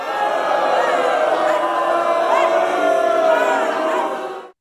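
A crowd's loud booing rises together and holds steady, a dense wall of jeering voices that cuts off abruptly at the end.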